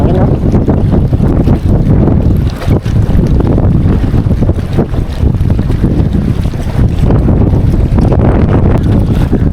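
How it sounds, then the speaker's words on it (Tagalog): Strong wind roars steadily across the microphone for the whole stretch, a loud buffeting rush over churning water. "Grabe yung hangin, no?"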